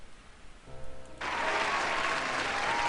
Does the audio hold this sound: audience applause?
yes